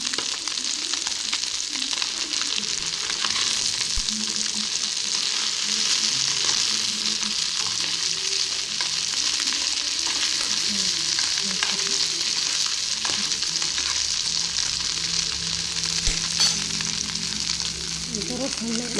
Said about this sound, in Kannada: ಹಿಂಗೆ ಬುರುಕ್ ಬರ್ತೈತೆ ನೋಡಿರಿ ಇದು, ಅಂದರೆ ಫ್ರೈ ಆಗಬೇಕು ಅನ್ನಂಗೆ ಇದು